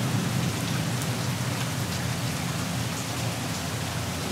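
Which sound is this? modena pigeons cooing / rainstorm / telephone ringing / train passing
rainstorm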